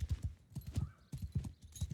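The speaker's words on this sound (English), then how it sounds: "Also, this horse handles very poorly." Horse hooves in the video game Bannerlord clip-clop in a quick, steady rhythm, close and prominent, with no talking.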